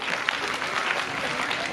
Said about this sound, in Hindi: ताली हो जाएगी